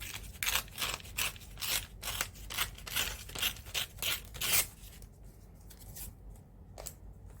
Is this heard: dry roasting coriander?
no